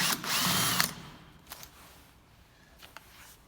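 A power drill removing screws from a fire-door lock body whirs in one loud burst of about a second, followed by a few short, faint mechanical clicks and taps in a quiet room.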